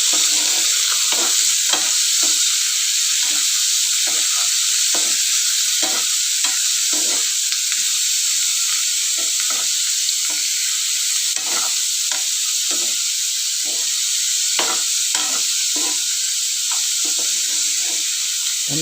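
Curry leaves, tomato and green chillies sizzle in hot oil during tempering for a curd tomato curry, a loud steady frying hiss with frequent stirring scrapes throughout and no talking.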